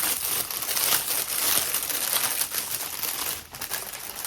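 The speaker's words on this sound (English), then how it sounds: "Sorry for the crinkling" Continuous crisp crinkling of plastic yarn packaging, close and fairly loud, rustling steadily for several seconds with brief dips, no talk over it.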